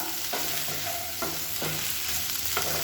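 Food being roasted and turned over in a frying pan, a continuous close sizzle broken by several rhythmic scraping stirs of a spatula against the pan, with no voices.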